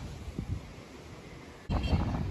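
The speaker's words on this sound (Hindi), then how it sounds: "तेज हवा चलना स्टार्ट हो गई है।" Strong storm wind gusting outdoors in a dust storm, a low rushing roar that swells suddenly and loudly partway through, battering the microphone.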